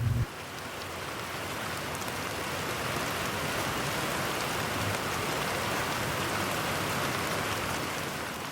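Steady rain falling on a surface, a dense, even hiss that continues unbroken at moderate level, used as an ambient effect for a scene of someone rushing from a shop out into a downpour.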